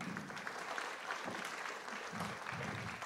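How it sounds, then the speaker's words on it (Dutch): Steady applause from an audience at a Cultuurcafé evening in a former monastery in Woerden, dense clapping that holds at an even level for about three seconds with no voices over it. "Applaus voor mijn gasten."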